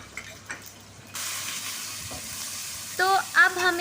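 Chilies and chopped onions dropped into hot oil in a pan for poha, a steady close sizzle that starts abruptly, with a few stirring scrapes and a brief squeaky clink near the end.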